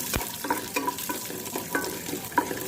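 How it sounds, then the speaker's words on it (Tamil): Six garlic cloves are sautéed in a pan while cooking pepper chutney, with a soft sizzle under repeated scraping strokes of a spoon stirring at a steady, unhurried pace, close up and without voices. "இப்போ இது கூடவே 6 பல் பூண்டு சேர்க்குறேன். இதையும் சேர்த்து நல்லா வதக்கிக்கலாம்."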